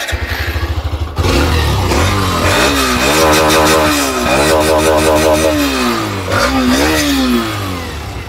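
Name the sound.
Hero Xtreme 125R motorcycle engine revving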